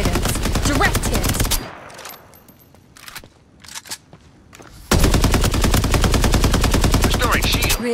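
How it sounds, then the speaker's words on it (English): Rapid automatic gunfire trades back and forth in a video game firefight: loud, sustained bursts, a pause with scattered shots and clicks, then another long rattling burst. "Exchanging fire!"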